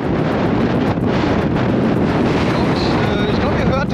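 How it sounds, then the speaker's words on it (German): Strong wind in Iceland roars steadily into the microphone as a dense, buffeting rush that never lets up, loud and close throughout, with no clear speech over it. "Aber hier ist so hart krasser Wind gerade."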